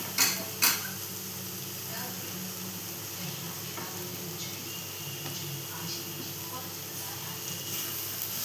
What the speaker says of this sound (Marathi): आता आपण त्यात टाकणार बटाटा. आणि मग त्यात टाकूया दुधी.